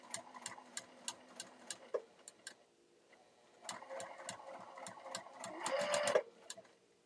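A sewing machine stitches a fabric scrunchie in two short runs, each a rapid rhythmic needle clatter, with a brief pause between and a small squeak near the end.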